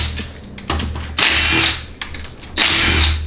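A power tool drives 8mm pan bolts on a Dodge 68RFE transmission in a shop, with two short close whirring bursts separated by brief pauses.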